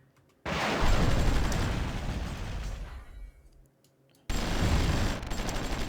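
Missile strike on a destroyer in the strategy game Supreme Ruler Ultimate, a loud crashing blast that fades, then a second abrupt burst of explosive noise.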